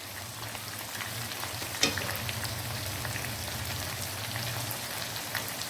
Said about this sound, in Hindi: अब हम इनको भी अच्छे से भुनेंगे ताकि इनका कच्चापन दूर हो जाए।